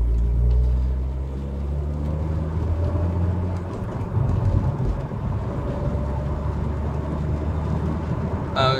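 A BMW E36 323i engine idles at low speed during warm-up on a cold day, a steady muffled rumble with faint rattling, fairly close but subdued.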